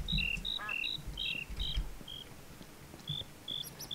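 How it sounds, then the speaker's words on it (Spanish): Cricket chirps from a video game sound as short, high, evenly spaced pulses in clusters against a quiet background, with a low rumble early on. "Un grillo."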